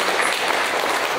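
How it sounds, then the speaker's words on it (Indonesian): Audience applause in a hall at a church men's seminar, a short dense burst of clapping at close range without a break. "Sekali lagi tepuk tangan untuk"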